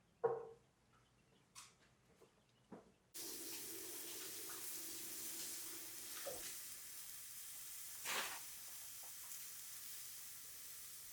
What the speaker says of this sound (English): we're just going to make a little patty and go over and throw it in a hot pan